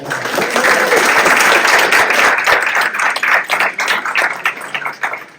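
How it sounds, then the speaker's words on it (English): An audience at a book launch gives a warm round of applause, dense and steady for several seconds before thinning into scattered, uneven claps near the end. "I think we should give her another round of applause"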